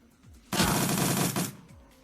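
A single sustained burst of automatic fire rips out in the video game Shadowrun: Dragonfall, loud and dense for about a second before cutting off, with quiet game sounds before and after it.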